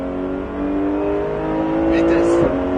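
A Porsche GT3 race car accelerating on a track at Pôle Mécanique Alès, engine note climbing steadily and loud, then cutting off sharply near the end with a brief high squeal, under continuous talk.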